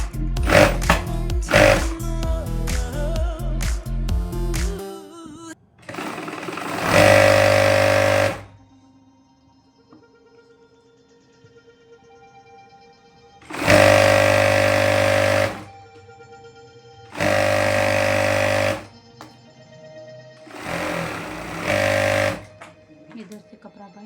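A sewing machine stitches the hem of a pant capri in several loud bursts of steady whirring, separated by pauses. Other clattering comes before the stitching, and a voice speaks now and then.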